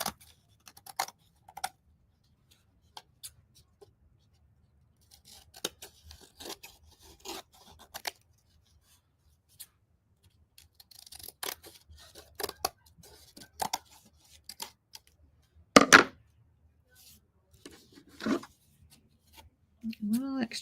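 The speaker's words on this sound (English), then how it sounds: "I'm just going to take my scissors and I'm going to cut away, just cut right next to the edge, any of the excess." Scissors snipping away excess paper or material along an edge at an Easter craft workshop, a scattered run of short crisp cuts with pauses, close by and moderately loud, with a few brief rustles between.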